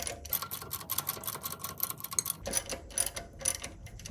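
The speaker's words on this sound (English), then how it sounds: "From here, use the 12mm ratchet and socket." A 12mm ratchet and socket clicking as it tightens a bolt during a timing belt job on a 1997-2008 Toyota Camry, with quick, close, uneven bursts of ratchet clicks and a short pause partway through.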